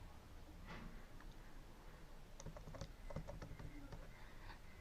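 Quiet, close clicking of keys on a computer keyboard as a command is typed, irregular taps in short bursts with a faint background hum.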